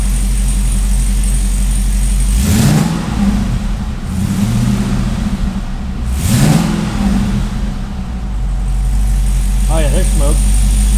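A Cadillac CTS-V fitted with Texas Speed headers rumbles loudly at idle nearby, then blips its engine in two sharp, deep revs a few seconds apart, settling back to a steady idle between them.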